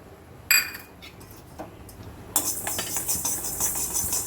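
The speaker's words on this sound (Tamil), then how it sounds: "இந்த வெந்தயத்தை வறுத்து எடுத்துக்கலாம்" Fenugreek seeds dry-roasting in a pan, with a sharp metallic clink at the start, scattered light ticks, then a steady crackling, rattling rustle as the seeds are stirred and toss against the pan.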